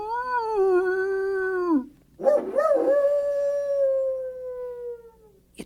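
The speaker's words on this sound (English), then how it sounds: "It sounds like puppies, sir." Puppies howl in long, wavering, rising and falling cries, one drawn-out wail followed by a brief yelping burst and another sustained howl tapering off, close and clear with no voices.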